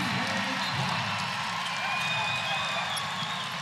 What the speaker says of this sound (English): Nice round of applause for Chase Coleman as he checks in and replaces Clark